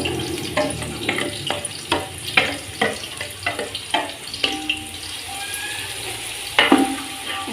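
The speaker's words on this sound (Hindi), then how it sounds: "इसमें हम जो है आधा किलो प्याज डाल रहे हैं, ½ kg ये कटी हुई प्याज है। हम इसको अच्छे से भून लेंगे।" Half a kilo of chopped onions sizzle in hot oil spiced with garam masala for a vegetable biryani, with a steady crackle under a series of sharp stirring and scraping knocks close by.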